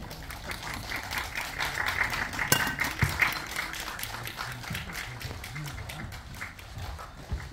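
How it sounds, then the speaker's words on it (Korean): Audience applause at a Korean film press conference as the director and cast are welcomed, a sustained patter of clapping throughout with a voice speaking over it. "큰 박수로 맞아주시기 바랍니다."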